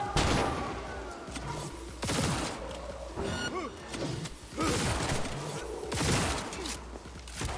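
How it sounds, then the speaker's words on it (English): A flashbang grenade goes off in Cyberpunk 2077, with loud, sharp bursts and booming blasts recurring amid gunfire-like crackle and ringing debris, with a voice faintly present. "Flashbang out."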